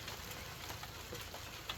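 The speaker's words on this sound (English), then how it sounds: "as soon as I decide to start making a video, it starts raining" Rain falls outside an estate sale house in Fort Collins, a faint, steady hiss with scattered soft drop taps and no voices.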